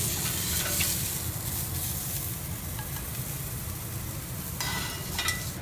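Asparagus sizzles on a grill pan in a steady, dense hiss that stays even throughout, with a few brighter crackles near the end and no voices.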